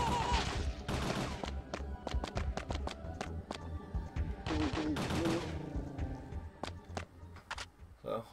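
Repeated gunshots from an enemy firing a gun in Parasite Eve 2, sharp reports spaced irregularly through the stretch under steady game music and a talking voice.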